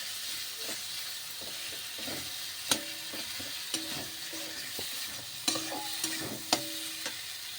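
Spice masala being sautéed and stirred in a pan, a steady sizzling hiss with scattered sharp clicks and scrapes of a spoon against the pan, close and moderately loud, no voices.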